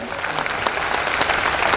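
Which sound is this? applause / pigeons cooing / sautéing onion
applause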